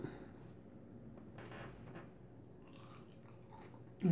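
A crunchy bite into food dipped in zesty sauce, one sharp close-up crunch near the end after a quiet stretch of faint rustling.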